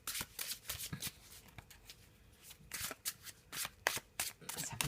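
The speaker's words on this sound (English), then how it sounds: "I'm going to be using, as usual, the black and white Faulkner deck. So I'm just going to give that a bit of a shuffle." A black and white Faulkner tarot deck shuffled by hand, bursts of crisp papery riffling and card slaps in uneven clusters, close up and alone.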